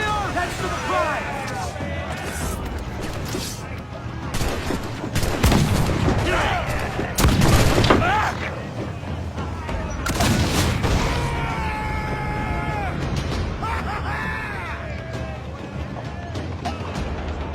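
Ship cannons booming in a naval battle in Assassin's Creed Black Flag, several heavy blasts and crashes rising over continuous crew shouting and battle noise, loud and close.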